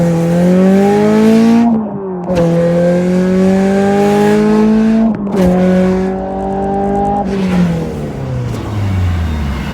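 A Honda CRX with a naturally aspirated engine pulls hard through the gears: loud, close engine note climbing in pitch, with three clear dips where the gearshifts break the rise, then a falling pitch at the end. No talking.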